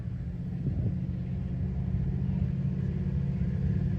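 At a drag race, a 1980 Mustang and a late-model Hemi Charger idle through staging, heard as a steady low engine rumble at moderate distance with a slight swell partway through.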